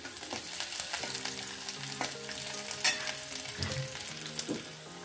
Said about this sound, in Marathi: छान लसूण होऊ द्यायचा लालसर.